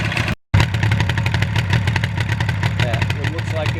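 A 1977 Yamaha RD400 motorcycle engine idles steadily and close by, a dense continuous rumble with a clattery edge, broken by a very short dropout near the start.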